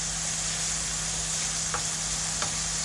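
Onions frying in a pan for a Bengali fish and potato curry, a loud, continuous close sizzle with a steady electrical hum beneath and two brief stirring scrapes.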